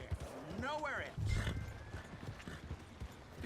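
Horse in a video game clip-clopping along with a neigh and a snort, hoofbeats close and moderately loud, with game voices talking throughout.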